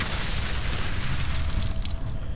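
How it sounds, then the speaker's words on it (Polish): An explosive charge is shot and blows up in F.E.A.R. 3, a long loud roaring boom that fills the whole stretch and fades slowly into rumbling debris. "Wystarczy strzelić raz w tą... ten ładunek wybuchowy i już jest sytuacja opanowana."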